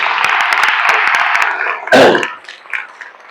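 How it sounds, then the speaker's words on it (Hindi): A room of students claps loudly for themselves at a lecture, a dense burst of clapping lasting under two seconds before tapering off, followed by a brief louder noise. "जोरदार ताली बजाओ अपने लिए"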